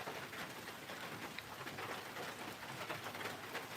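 Steady rain falls in an outdoor hyrax enclosure, a dense continuous patter of drops on surfaces, fairly faint and even throughout with no voices.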